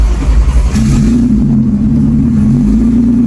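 A Haltech-tuned Audi engine fires up and revs hard, a loud, close, sustained roar with a rising steady tone under the bellow, no voices.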